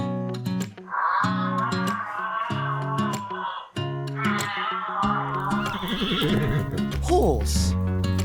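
A horse whinnies loudly several times, with long, shrill, wavering neighs close by, broken by short pauses and followed by softer snorting and hoof-like knocks at the end.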